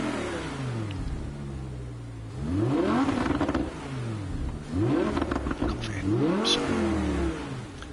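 An Audi race car in Gran Turismo 7 revs repeatedly, its engine note sweeping up and down in several rising pulls that sound somewhat muffled, moderately loud, with a brief spoken word.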